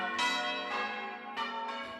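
Church bells rung by bell ringers in the 1400s ring of five at St Lawrence's, Ipswich, a deconsecrated church: four bright, sustained strikes in a steady change pattern, each ringing on and overlapping the next, with no talk.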